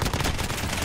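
Finn LMG light machine gun firing in Modern Warfare, a dense, continuous burst of rapid automatic shots, loud and close, with no gaps across the short stretch.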